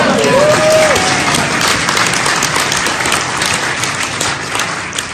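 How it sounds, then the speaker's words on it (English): A leadership conference audience breaks into dense, sustained clapping that fills the room evenly and tapers slightly toward the end, with a brief high whistle-like tone near the start. "I saw some people starting to clap"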